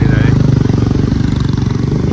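A motorcycle rides along in Pokhara, its engine a steady, close, low rumble with a regular pulsing beat throughout.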